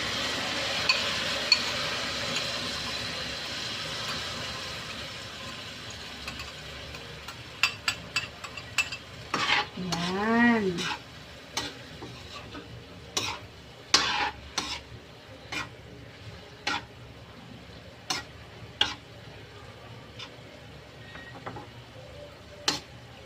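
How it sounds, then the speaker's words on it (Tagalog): Vinegar and sugar being stirred together in a pan for fish escabeche, with a spoon scraping and ticking against the metal in an irregular rhythm, sharper clinks coming more often in the later part, with no voices. "i-mix na natin yung ating vinegar. At saka sugar."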